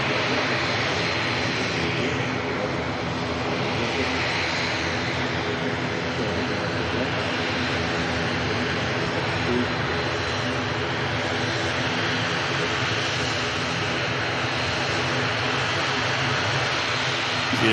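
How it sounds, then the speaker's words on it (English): A Loganair ATR turboprop taxis at Manchester Airport, its engine drone a steady, continuous broadband hum close by from start to finish, with no talk over it. "Beautiful Logan Air ATR on the taxi"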